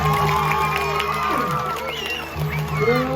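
A crowd cheers and shouts loudly amid festive Balinese gamelan music with horn-like tones at a Calonarang performance, a lively, continuous din.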